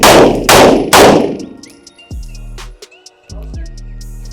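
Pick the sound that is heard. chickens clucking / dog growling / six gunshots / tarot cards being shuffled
six gunshots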